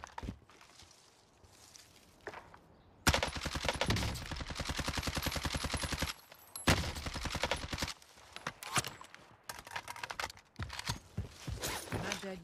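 Gunfire in a Call of Duty match, sniper fire among it: a dense burst of rapid, loud shots breaking in after a quieter stretch of footsteps and movement, then continuing in intermittent volleys; no talking.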